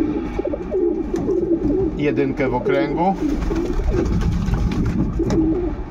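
Racing pigeons coo in a loft, a steady low murmur of many birds under a man's nearby speech, with a few wing flutters.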